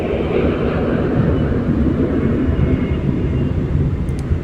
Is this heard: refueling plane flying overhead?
yes